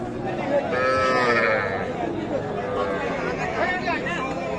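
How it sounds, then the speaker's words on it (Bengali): A young Sahiwal bull calf and other cattle at a busy village livestock market, with loud moos rising over steady crowd chatter and nearby voices. "এটা কিন্তু শাহিওয়াল ষাঁড় বাচ্চা।"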